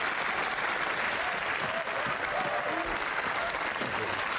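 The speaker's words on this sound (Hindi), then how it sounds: "देवियों और सज्जनों, जोरदार तालियों से स्वागत कीजिए यॉर्ग मर्ट्स का।" Loud, steady crowd applause welcoming a speaker in an animated film, many hands clapping densely and continuously, with faint voices buried underneath.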